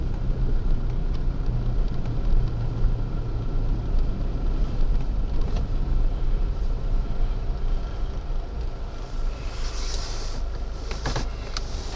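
A Nissan Pathfinder coasts in 4H on bare ice with the engine barely working, and its wheel hubs are under check. A continuous low rumble from the wheels and road is mixed with wind buffeting on the microphone, and nobody speaks.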